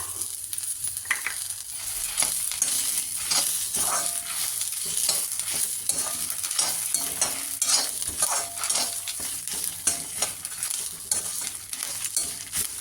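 Coconut is stirred and fried in a pan for arachuvitta sambar: a loud, continuous sizzle cut by rhythmic scraping strokes of a spoon against the pan, close up and with no voices.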